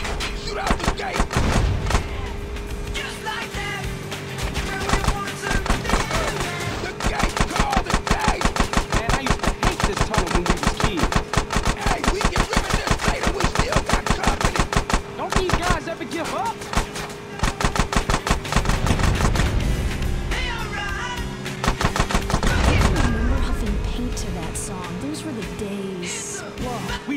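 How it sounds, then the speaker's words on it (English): Dense gunfire from a shootout in GTA San Andreas: The Definitive Edition, with rapid automatic bursts and heavy thuds rattling almost nonstop for nearly half a minute, loud and close, while voices shout over the fighting. "Shoot out the gate!"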